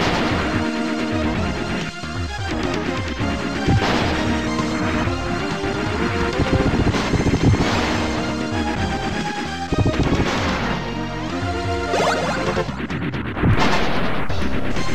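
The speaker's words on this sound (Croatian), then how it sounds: "molim vas, muziku koja slijedi." Soundtrack of the SNES game Cybernator, also known as Assault Suits Valken, plays loud and continuous, driving tonal music mixed with crashing, explosive in-game effects throughout.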